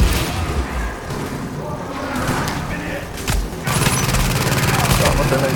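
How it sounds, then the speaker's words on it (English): A grenade goes off in the shooter game The Division amid other thuds and booms of gunfire, loud and close, with a person talking over the action. "Oh, there's a grenade."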